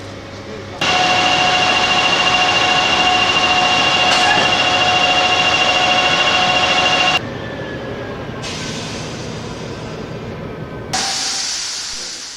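Trans-Siberian train standing at Nizhny Novgorod station while its locomotive is changed: a loud, steady hiss and rumble with a high tonal whine, easing off midway and then surging again near the end.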